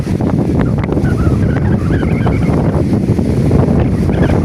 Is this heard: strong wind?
yes